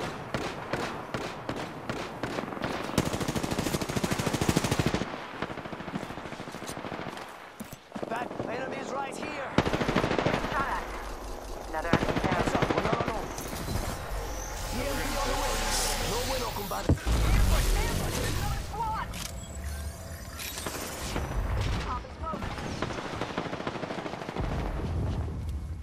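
Sustained bursts of automatic gunfire in a shooter video game, with rapid rattling volleys and booming shots throughout, interrupted by brief pauses and overlaid by spoken callouts.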